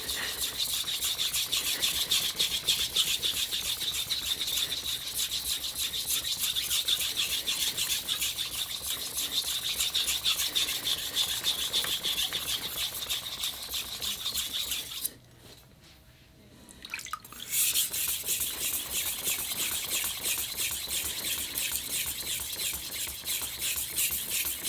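Steady rhythmic rasping of a steel knife blade being ground on a King waterstone to remove chips, continuous and close, with a brief pause partway through before the strokes resume.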